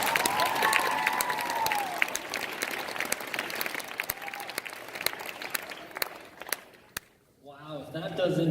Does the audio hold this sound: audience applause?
yes